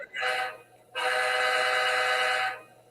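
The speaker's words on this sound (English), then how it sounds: "I hear a train horn this morning" A train horn sounds from a distance in two blasts, a short one followed by a longer sustained one that fades out, with a steady low hum underneath.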